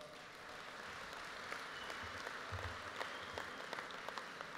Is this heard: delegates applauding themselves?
yes